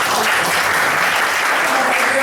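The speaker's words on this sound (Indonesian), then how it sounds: "Oke, tepuk tangan dong buat." Dense, steady applause from an audience at a Prudential agent testimony gathering, continuous and loud throughout with faint voices mixed in.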